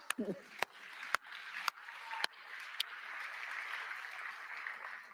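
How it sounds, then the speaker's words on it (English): Scattered clapping at a London Reactor meetup, a handful of sharp separate claps from the audience early on, followed by a softer, diffuse patter of applause fading out. "Yeah, you can clap."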